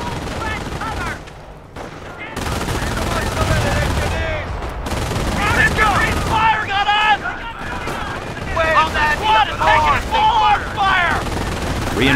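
Beach battle in the strategy game Company of Heroes, with continuous machine-gun fire and scattered shots over a heavy roar of combat, dense and loud throughout, shouted voices mixed into the din.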